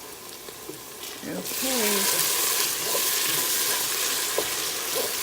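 Tomato paste sizzling in a pot while cooking for cioppino, a loud, steady frying hiss that swells and holds after the first second, with a brief spoken word and light stirring sounds underneath.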